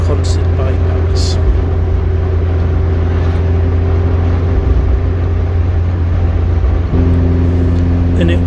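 Car cruising along the Consett bypass road, with a steady engine and road drone running throughout at close range, a constant low hum with slight shifts in tone near the end and no speech.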